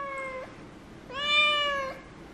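A female house cat meows twice indoors, a short call followed after a pause by a longer, louder drawn-out one, close and clear with no talking.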